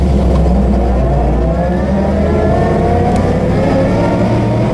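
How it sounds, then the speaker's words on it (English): A 1952 Ford F4 truck pulls away in second gear, its engine loud and close with a steady, rising mechanical roar and rough low rumble throughout, no talking over it. "We're going to take off in second."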